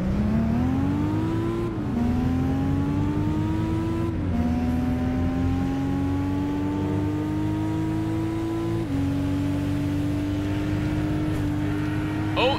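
A Lamborghini Miura in the video game Gran Turismo 5 races through Rome, its engine climbing in pitch through repeated gear changes, loud and continuous with sharp drops at each shift over about twelve seconds.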